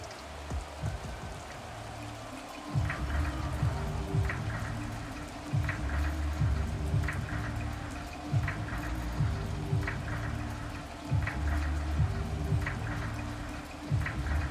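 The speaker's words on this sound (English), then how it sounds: "The rain set to continue as we are underway in the second half." Steady rain pours throughout a Madden 22 football game, a dense hiss with rhythmic low thumps and ticking pulses repeating under it and no talk.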